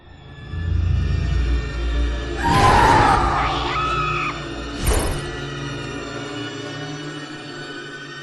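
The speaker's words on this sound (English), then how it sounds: "We heard a scream!" A loud, close scream in a cartoon scene, a shrill rising cry that peaks near the middle of the clip and is followed by a shorter second shriek over a low rumbling background.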